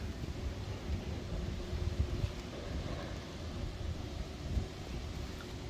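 Steady low rumble of wind buffeting outdoors, continuous with occasional stronger gusts, no voices.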